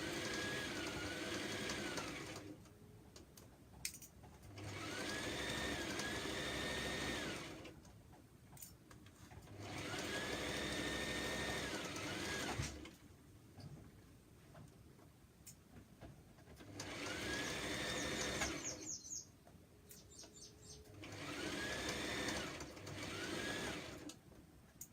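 A sewing machine sews a DIY top with a regular stitch and back stitch. It runs in four or five long, steady bursts of motor whir separated by quieter pauses, and faint clicks come in near the end.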